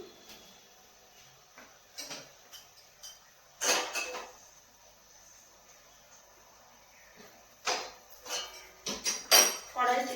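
A kadai (wok) heated on the stove with hot oil is handled, giving scattered metallic clanks and knocks, a few sharp and close, with quieter stretches between them.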